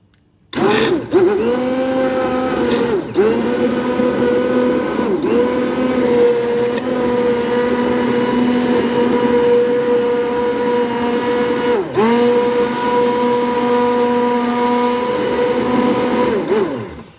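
A blender blitzes chunky leek and potato soup with bacon bits and herbs, a loud steady motor whine that dips and recovers in pitch a few times as the load shifts, running continuously for about sixteen seconds with no talking.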